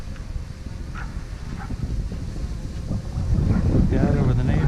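Outdoor wind buffeting the microphone during a DJI Mavic drone's first flight over a neighborhood, a continuous low rumbling roar that grows stronger toward the end, with faint voices underneath.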